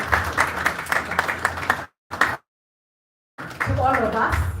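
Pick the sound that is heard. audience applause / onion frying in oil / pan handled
audience applause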